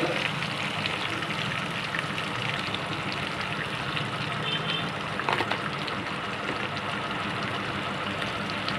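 Onion, tomato, curry leaves and potato sizzle steadily while being tempered in hot oil for a village-style kara kulambu, a dense continuous frying hiss with no voices.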